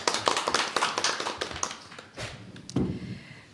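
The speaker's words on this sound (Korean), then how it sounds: "큰 박수 부탁드립니다." Audience at a Korean National Assembly forum on building a Gyeonggi international airport gives a short burst of clapping that fades, followed by a few scattered claps and thumps in a quiet hall.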